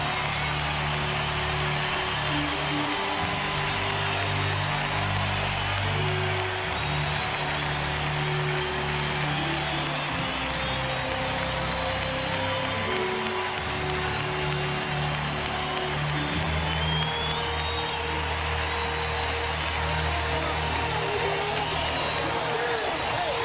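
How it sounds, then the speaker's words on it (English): A big ballpark crowd gives a standing ovation after a home run: sustained, dense applause and cheering that fills the stadium, with an announcer talking over the roar throughout. "A standing ovation for the big crowd here at the ballpark."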